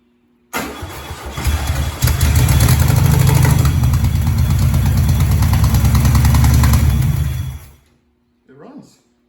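A homemade five-seat buggy engine on a temporary stand, run without a constant fuel supply, cranks on 12 volts, catches and runs loud and rough for several seconds before cutting out, with a brief sputter afterwards.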